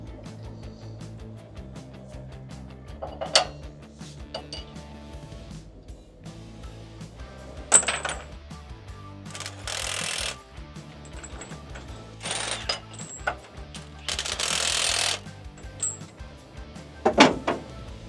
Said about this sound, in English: We clean out the holes, install them, and fit our bolts.